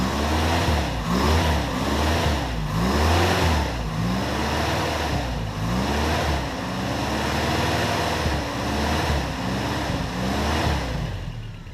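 A cold 1988 Toyota pickup with a 22R engine idles roughly just after starting, loud and close, with an uneven, lumpy pulsing rhythm and occasional surges. No one speaks.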